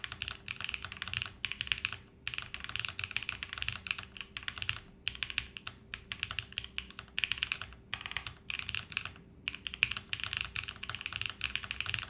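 Quiet, steady typing on a Theseus75 split mechanical keyboard resting on a desk, a fast stream of soft clacks with brief pauses and a faint constant hum underneath.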